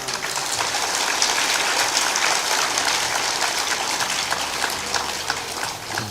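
A seated satsang audience claps hands together in a dense, continuous patter like rain, steady and fairly loud throughout with no distinct individual claps or voices.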